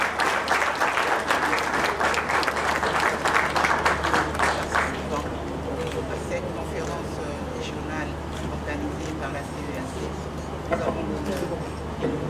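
An audience applauds at the closing of a regional conference on women, peace and security held in Kinshasa. Dense, steady clapping fills the first half and then thins to scattered claps under murmuring voices and a low hum.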